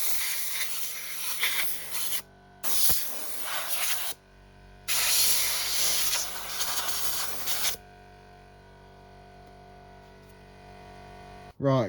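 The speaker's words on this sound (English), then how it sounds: "I've just sprayed some WD-40 all over the top" WD-40 sprayed over the top of a Mountfield RV40 150cc lawnmower: three loud, close hissing bursts of aerosol, short then longer, followed by quiet background hum and a sharp knock at the end.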